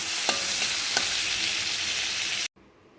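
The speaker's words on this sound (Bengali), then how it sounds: "এই তেলের মধ্যে নুন হলুদ মাখানো চিংড়ি মাছগুলোকে হালকা করে ভেজে নেব" Salt and turmeric coated prawns fry in hot oil with a loud, continuous sizzle and a few stirring clicks, cutting off abruptly near the end.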